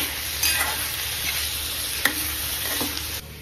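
Boneless chicken pieces stir-fried in a pan for Kolhapur-style chicken aalni, a steady close sizzle with scraping stirs and a sharp clack of the spoon midway, no talk.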